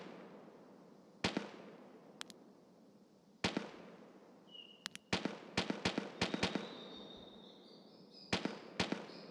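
Scattered distant gunshots from a scav in Escape from Tarkov, a dozen or so sharp cracks in irregular bursts, some single and some in quick clusters, fairly faint against a steady background hiss.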